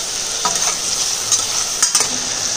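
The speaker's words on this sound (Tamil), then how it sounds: "இப்போ கரகப்பிலை 2 பச்சை மிளகாய் இப்போ வதக்கிப்போம்." Tomato, curry leaves and green chillies sauté in sesame oil, giving a steady bright sizzle throughout with a few soft stirring scrapes, close and continuous.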